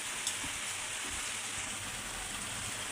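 Potatoes with crushed black and green cardamom hiss and sizzle in a hot pan with a steady frying crackle, broken now and then by a faint stirring scrape.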